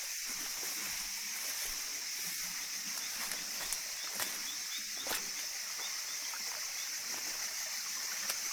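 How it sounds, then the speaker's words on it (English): A shallow forest stream runs over rocks with a steady, close rushing and trickling, broken now and then by small splashes as someone wades through the water. "We reach the stream and begin wading through the shallow water, moving slowly and watching every step over the rocks."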